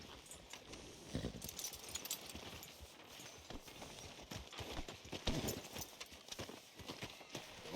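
Horse hooves clip-clop in Red Dead Redemption 2, a steady walking rhythm of soft thuds at moderate distance with faint tack jingling, quiet overall and free of talk.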